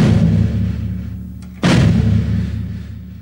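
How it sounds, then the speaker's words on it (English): A bass drum kicked with the beater buried into the head gives heavy booming thumps, one cutting off midway and a second louder, punchier hit ringing out over a sustained low rumble. "By throwing the beater in the head, you get more attack and more volume and power."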